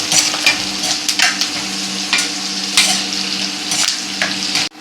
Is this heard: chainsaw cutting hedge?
no